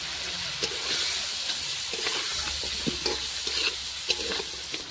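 Spiced goat meat being stirred and fried in a pan with turmeric, cumin, chili powder and ginger-garlic paste: a steady close sizzle with scraping stirring strokes throughout, and no voices.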